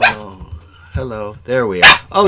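A dog barks a few times in short bursts, close by, mixed in with a person talking.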